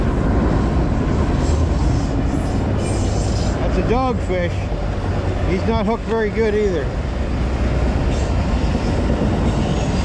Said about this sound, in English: Gotta love the trains.